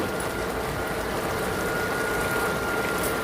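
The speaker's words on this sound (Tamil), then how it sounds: "தண்ணி நல்லா கொதிக்க ஆரம்பிச்சிடுச்சு" Steady bubbling, churning roar of water at a rolling boil, constant and close, with no pauses or voices.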